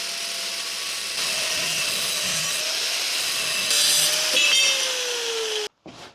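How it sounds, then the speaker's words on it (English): A power cutting tool, an angle grinder, slices through metal pieces for a beginner's forge build, a steady loud whine and grinding that rises and shifts pitch for several seconds before cutting off abruptly near the end. "you can cut your pieces using your hacksaw, but I have an angle grinder"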